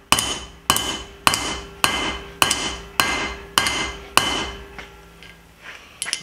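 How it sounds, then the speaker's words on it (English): Repeated sharp metallic blows from a straight peen hammer on metal, about eight strikes at an even pace, each ringing briefly, with a couple of lighter taps at the end. "You get a straight peen hammer."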